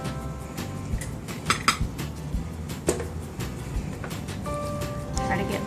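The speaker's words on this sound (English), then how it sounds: "Put it on our plate. Get us a nice helping of this vegetable fried rice." A pork chop and vegetable fried rice are served onto a plate with clinks and scrapes of a metal utensil against dishes, heard close under steady talking.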